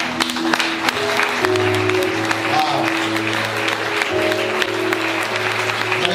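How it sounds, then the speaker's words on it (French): A congregation at a Martinique church service applauds to acclaim the Lord, sustained steady clapping from a crowd with voices and a low musical drone underneath, fairly loud and continuous. "On acclame le Seigneur."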